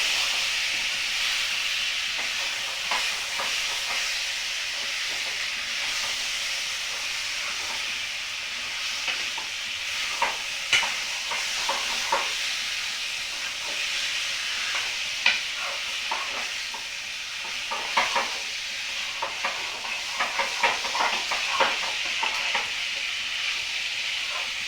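Meat frying in a pan and stirred repeatedly, a constant loud sizzle and steam hiss broken by scraping and clattering stirs, close up with no voices.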